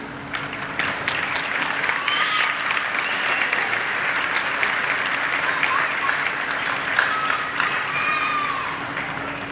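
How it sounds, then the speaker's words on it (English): A graduation ceremony audience applauds loudly and continuously, dense clapping filling a large hall with crowd murmur underneath and no voice speaking over it. "A round of applause, please."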